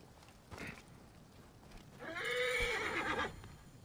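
A horse in the video game Assassin's Creed Origins gives a brief snort and then a clear, drawn-out whinny lasting about a second, close and moderately loud over quiet game ambience.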